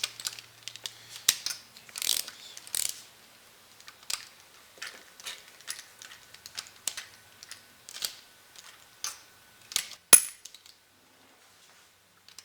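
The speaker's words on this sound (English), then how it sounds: "Let's torque the cams." A ratchet torques the cam caps on a Honda B16 engine, a close run of quick clicking pawl strokes in short bursts with brief gaps and one sharp metallic clack near the end.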